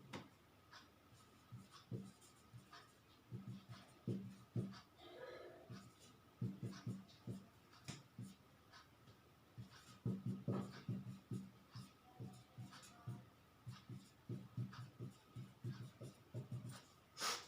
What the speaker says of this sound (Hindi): थोड़ा सा मैं ऊपर लिख दूं इसको